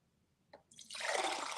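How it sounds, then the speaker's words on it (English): Freshly pressed juice pours into a container, first a few faint drips, then a steady, bright splashing stream that grows fuller and louder to the end. "now we're going to pour our juice"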